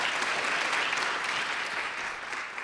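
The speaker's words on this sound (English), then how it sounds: "let's just give Pamela a big round of applause" Audience applause for a speaker named Pamela at a talk on women re-entering the workforce, a steady dense wash of clapping from a seated crowd lasting throughout, fairly close and even in loudness with no voices over it.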